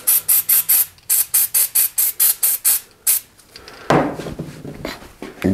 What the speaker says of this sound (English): So I'm gonna take a Finish Line citrus degreaser.